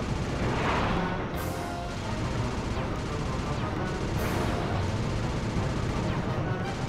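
Enemies fire rockets in the PS3 game Sly 2: Band of Thieves, a steady roar of explosive blasts and rumbling booms with a few sharper bangs on top, loud and continuous from start to finish.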